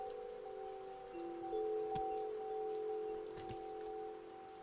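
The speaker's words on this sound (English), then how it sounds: "One-shot full original soundtrack with rain sound effects" Soft, steady rain patters quietly beneath the sustained tones of the One-shot game soundtrack, a faint even hiss running throughout with no voices.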